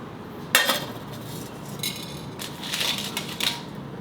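A metal cooking pan being set down and handled on a stove before frying masala for dry shrimp curry: a sharp clank, then a few lighter clinks and scrapes, fairly close and quiet, with no speech.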